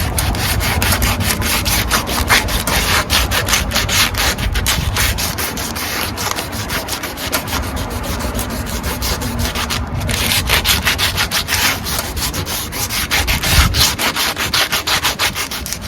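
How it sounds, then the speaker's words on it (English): Coarse 60 grit sandpaper rubbed by hand over painted steel on the roof of a 1999 Ford Econoline E-150 van, a steady fast scratchy rasp of close, continuous back-and-forth strokes. "I'm gonna rough up the paint around this spot with this 60 grit coarse sandpaper"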